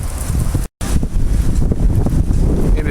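Strong wind blows against moored boats in a harbor basin, heavy buffeting microphone rumble that continues without a break. A brief dropout interrupts it near the start.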